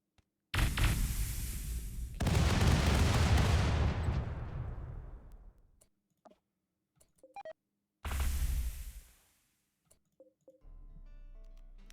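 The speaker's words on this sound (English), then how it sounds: "They're still firing at us, though, with weapons that don't really generate heat for them, but are beating up on our shields." Enemy starship weapons firing on a ship's shields in RimWorld, a loud sustained roaring barrage that fades out, with small clicks, then another short heavy burst.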